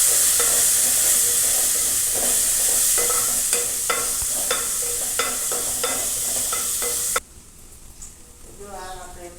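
Onions and curry leaves frying and being stirred in a pan, a steady bright sizzle broken by scraping spoon strokes, then abruptly quieter as the sizzle drops off near the end, with a voice faintly present.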